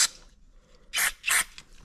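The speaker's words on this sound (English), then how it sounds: "What I just do is just spray some brake par cleaner in there." Brake parts cleaner sprays in short hissing bursts into the passages of an FCR 37 carburetor from a 2006 KX250F, a brief spritz followed by two louder close bursts.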